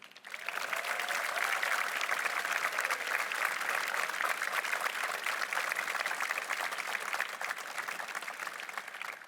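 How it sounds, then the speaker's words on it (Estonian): A large concert audience applauds steadily, a dense wash of clapping that stays loud and even for the whole stretch, with no talking over it. "Teeme neile palun ühe suure aplausi."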